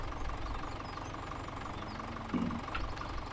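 A tractor engine labouring under heavy load in a farming simulator game, a low, steady droning hum with a slight knock that stays faint and even throughout.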